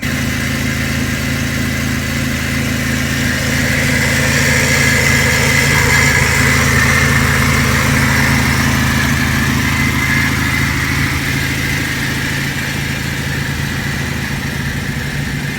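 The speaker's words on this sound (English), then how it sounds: "would you look at this, the car is running" A car with a Honda D-series engine runs at a steady idle, a continuous mid-pitched hum with constant loudness, close by and with no voices.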